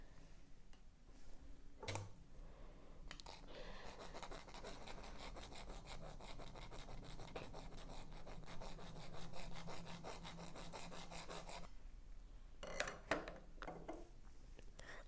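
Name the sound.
filing out holes in encoder mount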